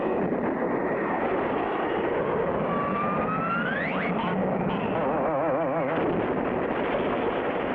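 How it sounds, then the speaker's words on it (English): A cartoon plane's engine drones loudly at takeoff during an air race, a steady roar with a rising whine, then a brief wavering warble near the end. "Frenchie Fontaine waits for the takeoff signal, not knowing the other end of the cable that's fastened to the pylon is hooked to his plane's tailpipe"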